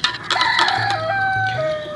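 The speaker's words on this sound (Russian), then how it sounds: "Вот петушок, который спать мне не дает по утрам" A rooster in Goa, India crows close by, a loud drawn-out cock-a-doodle-doo that rises and then trails off into a long held note, standing alone.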